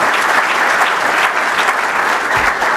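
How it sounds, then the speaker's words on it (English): Dinner audience applauding, a dense, loud wash of clapping that holds steady throughout without letting up. "If you would give them a little applause,"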